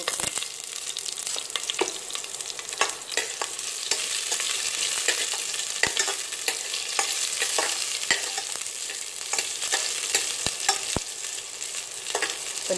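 Large onions frying for sambar in a pan, a steady close hiss and sizzle with scattered crackles and occasional stirring clicks throughout, no talking.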